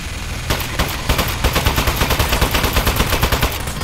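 A weapon fires in the video game Aperture Desk Job: a loud, fast stream of evenly spaced automatic shots starts after a short pause and keeps going without talking.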